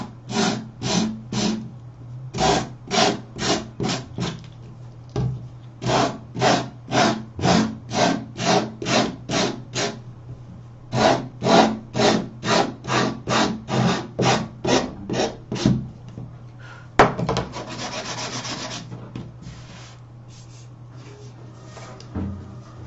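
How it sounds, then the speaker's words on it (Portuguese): Hand sanding of wood in steady back-and-forth strokes, a long run of rhythmic rasping rubs with brief pauses, close and clear, ending in a rougher scrubbing burst and then quiet. "E aí, vamos lixar."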